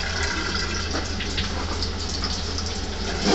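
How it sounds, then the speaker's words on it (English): Water gushing steadily from an automated toilet built into a signpost, a close, loud, continuous rushing flow with no talk. "There's the water. It just comes out."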